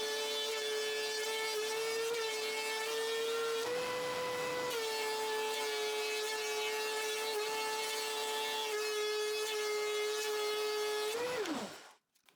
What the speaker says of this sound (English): I run my planer just under the thickness of my thinnest board and run all the boards to get an equal thickness